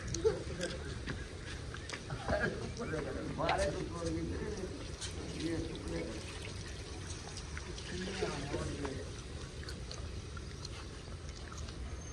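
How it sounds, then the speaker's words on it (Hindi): Water poured from a large bucket into a big pot holding 1.5 kg of rice for an outdoor village cooking batch, a steady splashing pour running under ongoing talk. "इसमें जो है ना हम थोड़ा सा पानी ऐड करते हैं"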